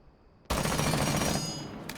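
Rapid rifle fire with a flash hider attachment in Rainbow Six Siege, a loud continuous burst starting abruptly and sustained for over a second with dense, broadband shots.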